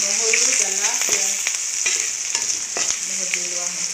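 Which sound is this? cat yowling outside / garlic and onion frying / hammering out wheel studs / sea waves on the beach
garlic and onion frying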